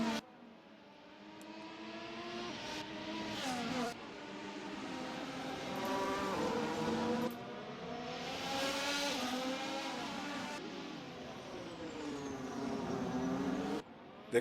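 Formula 1 race cars in a video game at Monaco, high-pitched engines screaming and revving as cars pass one after another, pitch rising and falling with gear shifts, loud and continuous.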